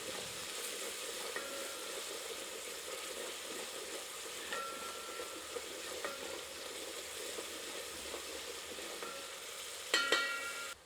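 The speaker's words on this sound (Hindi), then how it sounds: "तब तक भूनते हैं जब तक कि प्याज सुनहरी आभायुक्त नहीं हो जाती। बीच बीच में करछी चलाते रहें ताकि प्याज समान रूप से भुने।" Onions fry steadily in a pan with a soft, continuous sizzle while a ladle stirs them, giving faint scraping touches and a brief louder clatter near the end; no voices.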